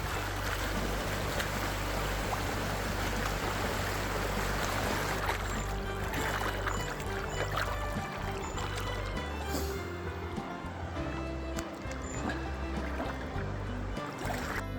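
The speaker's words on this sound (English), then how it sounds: "Now it's many kilometers of walking directly in the Arrow River itself." Wading through the flowing Arrow River in New Zealand, a continuous close rush of moving water with splashy churning from steps, steady and fairly loud with no talk.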